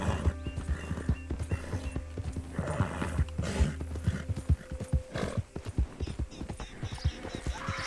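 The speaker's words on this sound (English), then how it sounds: "This is the absolute best way to ride a horse in VR." A horse gallops in the video game Red Dead Redemption 2, played in VR mode, with rapid rhythmic hoofbeats up close, a whinny rising over them, and a constant backdrop of game ambience.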